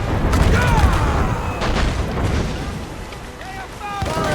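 Ship cannons fire in a naval battle in Assassin's Creed Rogue, with low booming blasts and rumble under a continuous noisy backdrop of sea and combat sounds.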